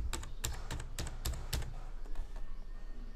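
Fingers type a password on a computer keyboard, producing a quick run of crisp, close key clicks that thin out toward the end.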